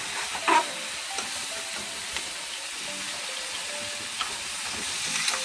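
Jamaican crab curry being stirred in a cooking pot, a soft, steady sizzle and bubbling hiss with faint scraping stirs and a few small clinks, no talk.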